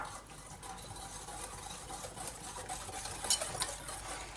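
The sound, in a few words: beating eggs and sugar in a bowl for muffins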